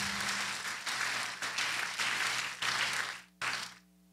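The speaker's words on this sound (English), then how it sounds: "I believe the Lord deserves the best clap of praise" A church congregation claps in praise during a sermon, a dense burst of applause swelling and pulsing in waves for about three seconds before breaking off abruptly, with a low organ-like hum sustained underneath.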